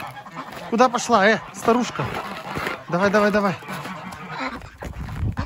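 Geese honk loudly and repeatedly in a farmyard, close by, in short bursts of harsh calls. Someone speaks Russian over them as he herds the birds.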